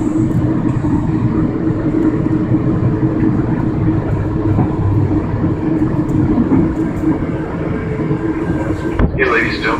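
Amtrak train arriving at Pomona station, a loud continuous rumble of wheels and carriage noise inside the train, with speech heard over it and a brief sharp sound near the end.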